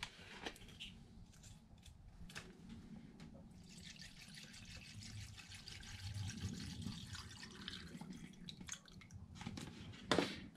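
Water trickles and splashes steadily as it is poured over antique bottles being cleaned with copper, a soft liquid wash running close by for about ten seconds, with a brief louder clatter near the end.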